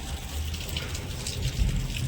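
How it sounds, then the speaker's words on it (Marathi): Heavy unseasonal rain pours steadily in a dense, continuous hiss, with a low rumble underneath and thunder rolling in. "अजून पाऊस चालूच आहे"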